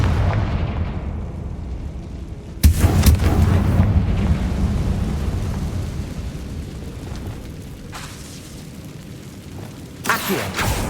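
Confringo blasting spell cast in Hogwarts Legacy: a sudden loud boom about a third of the way in, followed by a sustained rumbling roar, then a sharper burst near the end.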